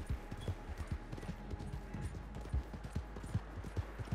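Horse hooves clop in the video game Red Dead Redemption 2, a steady close rhythm of hoofbeats on a hard trail over low ambient noise.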